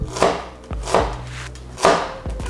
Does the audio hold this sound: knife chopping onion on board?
yes